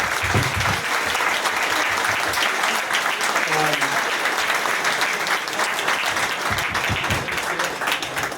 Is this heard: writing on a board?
no